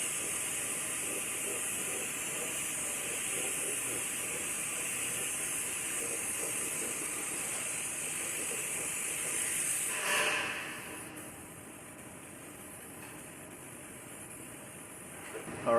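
Spray gun applying epoxy primer to a Ford F150 truck frame, a steady close hiss that runs for about ten seconds, then drops away to a quieter background.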